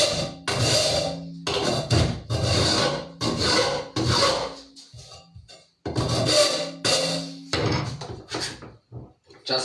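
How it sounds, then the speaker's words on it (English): Hand file rasping along the sheared cut edges of sheet metal, close and loud, in repeated long strokes separated by brief pauses. "What I'm doing now is just smoothing out the cut edges."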